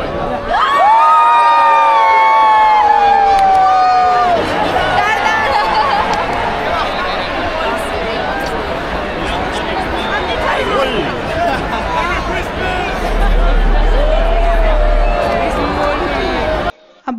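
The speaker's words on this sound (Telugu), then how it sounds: "ఏమన్నా అరుస్తున్నారా వీళ్ళు, మామూలుగా ఎంజాయ్ చేయట్లేదనమాట." A huge outdoor crowd at the Barcelona Christmas lights switch-on erupts in cheering, whoops and high shouting, then settles into a sustained roar of excited chatter and yelling that continues throughout.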